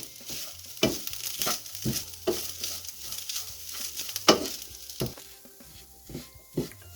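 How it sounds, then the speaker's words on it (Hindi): Masala roasting over a low flame in a pan for an aloo matar snack, a gentle sizzle punctuated by irregular stirring scrapes and taps, quiet and close with no talking. "इसे हमें धीरे आंच पे भूनना है।"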